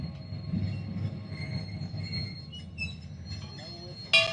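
A miniature railroad train at Garvan Woodland Gardens' Christmas display rumbles along steadily with faint wheel squeal and clatter, ending in a brief sharp metallic screech, with no talk.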